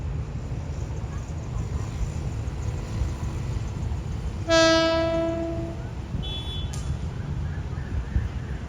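The Hitachi 4516 in national-flag livery, working train 254 from Lang Suan to Thonburi, sounds one loud horn blast of about a second near Ban Pong station over a constant rumble of running train noise.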